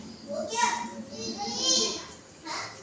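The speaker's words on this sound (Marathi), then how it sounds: "मुलं बाहेर बोलतात त्याचा आवाज येतोय" Children talk and play outside, heard as high, lively young voices at a moderate distance, with no other sound competing.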